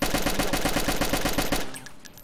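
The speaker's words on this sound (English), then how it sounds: "That's a lot of shots for one person." Rapid, dense gunfire from several weapons in a tactical video game, sustained bursts with hardly a break for about a second and a half, then cutting off to a quieter tail.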